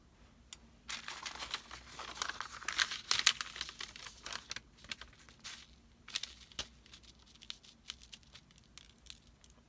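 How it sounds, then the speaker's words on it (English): A paintbrush sweeps loose foil off a craft journal page, giving soft crinkling and rustling strokes, close and fairly quiet, in uneven bursts with no talk. "take a paintbrush and just brush off the foil where I don't want it"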